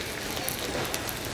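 Lata fish and potato sizzle in leaves on a small tawa, a steady, close crackling and spitting hiss of frying with no break.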